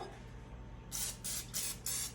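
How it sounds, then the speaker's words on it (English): Four short hissing bursts of cooking spray into a loaf pan, evenly spaced, close and crisp over a quiet room background. "spray your loaf pan."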